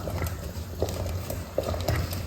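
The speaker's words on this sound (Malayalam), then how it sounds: "ഇങ്ങനെ ഇളക്കിക്കൊണ്ടേ ഇരിക്കണം." A thick chana dal payasam is stirred in a pot, with soft irregular scrapes and light bubbling under a constant low kitchen hum. No voices.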